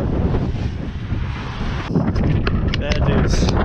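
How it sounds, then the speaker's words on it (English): Strong wind buffets the microphone outdoors, producing a constant loud rumbling roar that runs through the whole stretch, with a voice speaking under it. "Oh, it's pretty windy outside."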